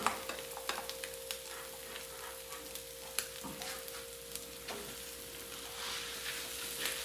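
Cooked rice sizzles and gets stirred in a hot pan for adobo fried rice with chicken and peas, steady frying hiss broken by scraping clicks of the spatula, with a constant hum behind.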